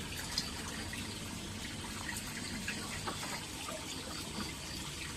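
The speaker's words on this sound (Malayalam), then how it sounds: "നമ്മൾ മോട്ടർ ഓൺ ചെയ്യാൻ പോവാണ്." An aquarium filter motor runs after being switched on during fish tank cleaning, pumping water in a steady, even rush and splash, close but quiet, with no talking.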